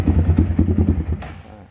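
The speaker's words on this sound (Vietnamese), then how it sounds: "Bô nghe kinh khủng luôn." A mid-range big-bike motorcycle with a very loud exhaust revs in a quick series of close, punchy bursts before settling and fading out.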